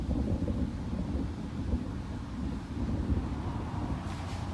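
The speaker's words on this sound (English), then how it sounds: "That was mad thunder." Deep rolling thunder rumbles continuously, fairly loud and low, with some wind buffeting the microphone and no voices.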